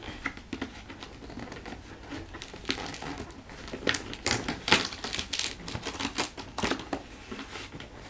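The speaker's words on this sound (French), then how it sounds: "Nous sommes le 5 décembre, donc je vais ouvrir la 5e case" A long cardboard compartment of a NYX and Kusmi Tea advent calendar being opened, with close rustling, crinkling and tearing paper bursts that grow louder and busier midway, without speech.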